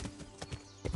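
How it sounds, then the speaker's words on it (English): Horse hooves clip-clop steadily while riding in Kingdom Come: Deliverance, a brisk, regular rhythm of close, distinct hoofbeats with no talk. "traveling there with my horse"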